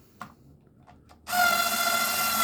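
A few light clicks and taps, then a Black & Decker cordless screwdriver whirs on steadily, a high buzzing motor drilling close by.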